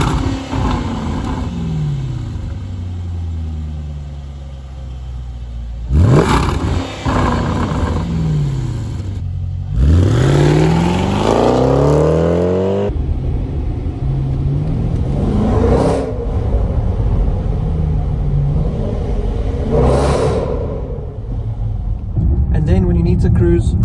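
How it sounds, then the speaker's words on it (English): A Jaguar F-PACE SVR engine rumbles and revs hard, with rising and falling exhaust bursts and loud crackling swells, close by. "the warmer this exhaust gets, the louder and more aggressive it starts to sound."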